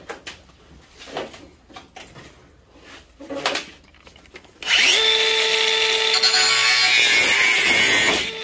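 An angle grinder cuts into scrap metal in a scrap shop, starting abruptly after a few faint clanks and then running loud and steady at a high whine for several seconds.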